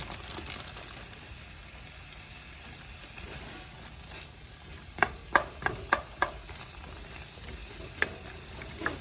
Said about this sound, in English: This is some diced onion that I'm going to put in here and let cook a little bit and kind of caramelize down in that.